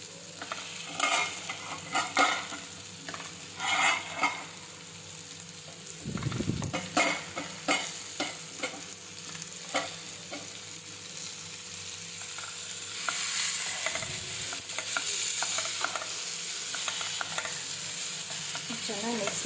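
Drumsticks are stir-fried in a pan, with bursts of loud scraping and tossing from a spatula over a continuous oily sizzle, two heavy thuds partway through, and steadier crackling later.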